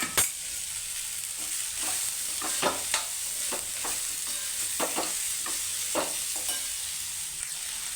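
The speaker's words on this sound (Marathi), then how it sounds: "आता ही भेंडी मस्त फ्राय होऊ देते, 10-15 मिनिट शिजू देते" Okra frying in a pan with masala, garlic and crushed peanuts for a Maharashtrian bhendi bhaji, giving a steady close sizzle with repeated clicks and scrapes from stirring.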